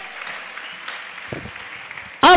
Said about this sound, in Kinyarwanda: Mpera Imana amashyi ko yamukuye muri koma nyuma y'iminsi 4.